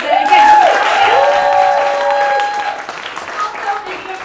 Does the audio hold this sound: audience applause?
yes